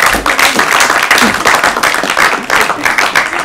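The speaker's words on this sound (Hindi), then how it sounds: "ताली बजाइए इनके लिए।" A studio audience at an Urdu quiz show applauds a contestant, a steady, dense burst of many hands clapping that stays loud and even from start to finish.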